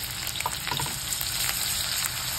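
Crushed garlic and chopped green chili fry in hot oil for Mung bean bhaji, a steady close sizzle with faint crackles and soft stirring, no voices.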